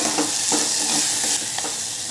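Vegetables are stirred in a pan of hot oil with salt, red chili and coriander-cumin powder: a steady broadband sizzle runs throughout, with a few soft scraping strokes of the spoon, close up and with no talking.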